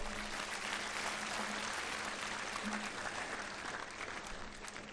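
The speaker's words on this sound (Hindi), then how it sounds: "एक बार इनके लिए जोरदार तालियां हो जाएं भाई।" An audience claps continuously for several seconds at an event at Acharyakulam, Haridwar, a dense steady applause that stays loud throughout without a pause.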